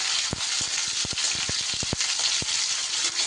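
Beans and carrots frying lightly in a pan, with a continuous hiss and a quick run of crisp pops and crackles close by.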